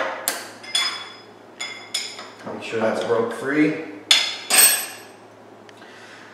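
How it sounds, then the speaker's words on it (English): A heavy hammer strikes metal while a punch press is set up, giving a handful of sharp, ringing clanks at irregular intervals, with someone talking between and over the blows. "We're also going to loosen up this hammer."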